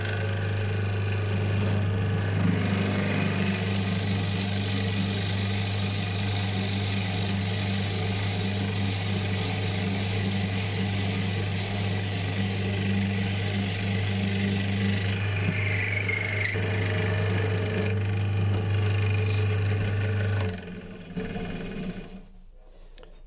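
A power drill drones steadily for about twenty seconds, grinding through walnut wood with a constant low motor hum, then winds down and stops.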